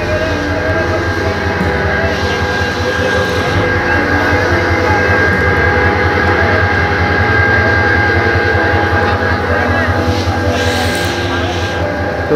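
A crowded Bangladesh Railway train stands at a station, giving a continuous loud wash of engine rumble and crowd noise that stays even throughout.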